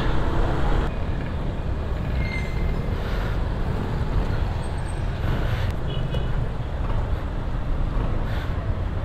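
Heavy afternoon road traffic roars steadily and continuously around a scooter rider, a dense wash of engines and tyres with occasional brake hisses and no let-up.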